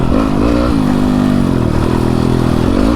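A Yamaha YZ250F four-stroke dirt bike engine runs while being ridden, loud and close with a buzzing, rising and falling pitch as the throttle changes.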